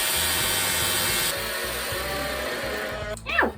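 A power drill bores holes into wood for a homemade birdhouse hinge, a loud, steady whirring that drops in pitch partway through and then cuts out near the end.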